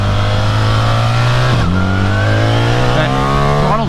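A 2024 BMW R 1300 GS motorcycle engine pulls hard under acceleration while riding, a loud steady drone climbing in pitch, dipping briefly at a gear change and then rising again as it revs up.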